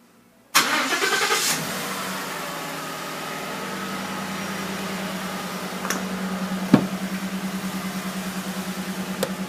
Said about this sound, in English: For the remote start, we hit the start key one time and the engine cranks